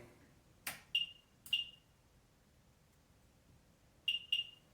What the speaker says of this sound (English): It's on. You can hear it beeping. That beeping is background radiation.